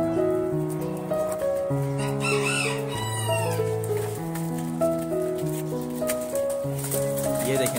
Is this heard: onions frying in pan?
no